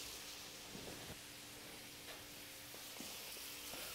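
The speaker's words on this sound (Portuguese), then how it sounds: "Você vai colocar o seu filé na sua frigideira" Filet mignon searing in butter in a hot frying pan, giving a steady, faint hiss and crackle with a few soft clicks of the pan, and no voices.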